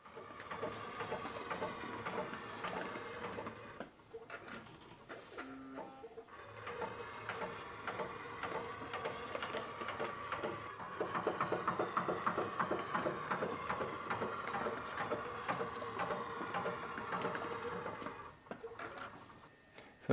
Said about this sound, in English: after I click open, the machine is going to scan this instrument